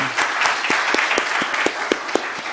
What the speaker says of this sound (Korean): 다시 한번 크게 박수 한번 해주시죠